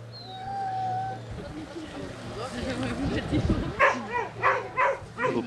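Chained working dogs and puppies in a summer yard bark and yip, with several sharp close barks in quick succession toward the end, following some whimpering and voices.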